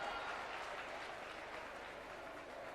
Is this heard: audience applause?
yes